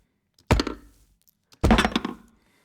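Two short, dull thud effects built in FMOD for game sound design, about a second apart, each a loud low impact with a quick decaying tail, heard alone with no voices.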